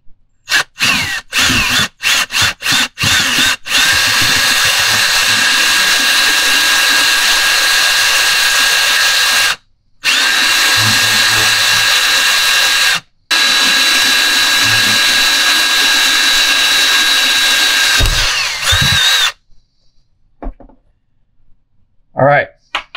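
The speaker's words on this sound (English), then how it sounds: "I like to drill a hole in the backside right here in this notch" A power drill whirs in several short bursts, then runs in long loud stretches with brief pauses, drilling a hole into a fishing kite rod, before stopping, followed by quiet clicks.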